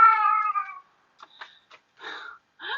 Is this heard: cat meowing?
yes